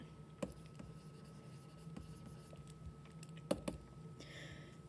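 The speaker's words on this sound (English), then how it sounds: "I'll write that out." Pen writing out an equilibrium expression in a chemistry lesson, heard as faint, close scratchy strokes with a few sharper taps, steady and quiet with no talk over it.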